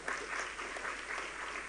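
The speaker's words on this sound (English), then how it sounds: "can I have a huge round of applause for our Colonel here?" Steady applause from an audience at a tech talent conference in Tamil Nadu, dense clapping held at an even level throughout.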